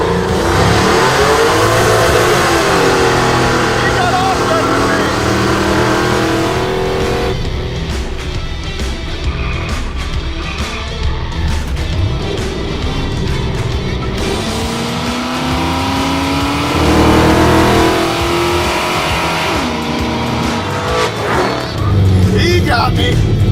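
Two muscle trucks race side by side, one with a supercharged 4.6 and the other with a naturally aspirated 5.7 LS6, engines revving hard and loud with rising acceleration sweeps throughout, while people talk over the roar.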